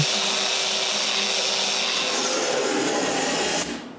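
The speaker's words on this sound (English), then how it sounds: "Sand them" A power sander works bamboo bicycle parts, giving a loud, steady whirring grind that runs without a break and then cuts off sharply near the end.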